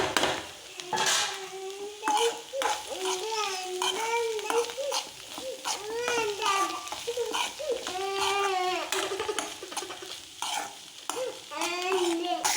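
Bitter gourd thoran with grated coconut is stirred in a pan, giving continuous scraping and light sizzling, with a voice talking and whining over it throughout.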